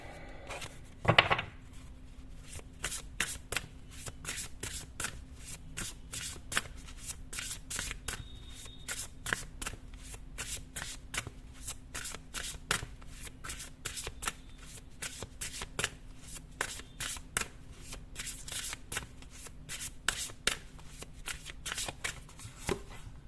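Tarot cards are shuffled over and over, a close, crisp riffling and flicking of the deck that repeats steadily at a quiet level with no talking.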